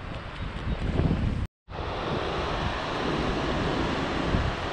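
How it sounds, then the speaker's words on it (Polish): Steady wind rushes and rumbles across the microphone, broken by a brief moment of silence, then continuing as a constant blustery roar. "O, znowu się wiatr zerwał."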